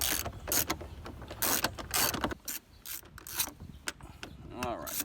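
A ratchet with a socket and extension loosens a bolt on a Jeep JL mirror mount, giving close, loud bursts of rapid clicking in repeated strokes with brief pauses.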